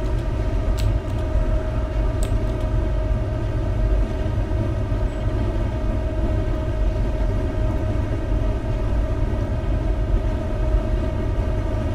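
A tilting CrossCountry passenger train in Train Simulator 2017 runs at speed along a curving line, giving a steady, close rumble with a constant droning hum and no talking.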